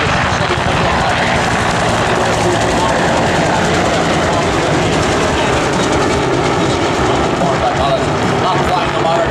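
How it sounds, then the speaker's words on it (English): Continuous loud, throbbing drone of a Douglas A-1 Skyraider propeller-driven aircraft at an air show rescue reenactment, a dense rumbling roar sustained throughout with a public-address voice speaking over it. "The venerable Douglas A-1 Skyraider, engine take punishment and deep fly"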